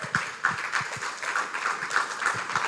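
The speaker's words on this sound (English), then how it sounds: "Let's give them another round of applause." Applause from an audience at a church-hosted talk, a steady wash of clapping with individual hand claps standing out, moderately loud and continuous, with no talking over it.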